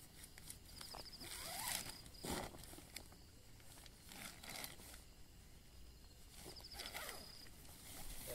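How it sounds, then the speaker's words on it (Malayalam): A tent zipper is drawn open in quiet outdoor surroundings at a campsite in Kuttikanam, Idukki, giving several short, faint rasping pulls with brief pauses between them. "നമ്മൾ ഈ ടെൻറ്റ് സെറ്റ് ചെയ്തു, ഇനി നമുക്കിതൊന്ന് ഓപ്പൺ ചെയ്യാം"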